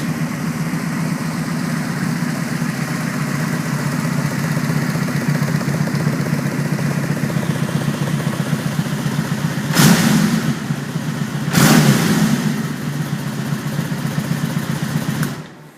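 A 1998 Honda Magna VF750C motorcycle idles steadily up close with an even low engine rumble, broken by two short bursts of broadband noise near the end.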